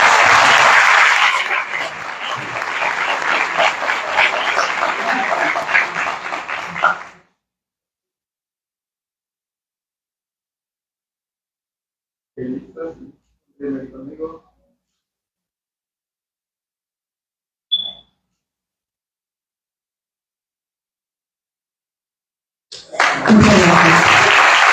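Audience applause at a manual presentation event in Nuevo León: a sustained burst of clapping for several seconds, then near silence with a few brief sounds, and clapping returning at the end.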